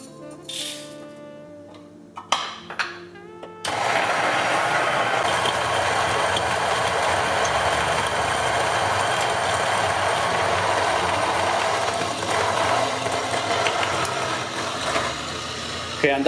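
A coffee grinder whirs loudly and steadily for about twelve seconds after a few brief clicks and taps, a dense, sustained grinding of beans close by.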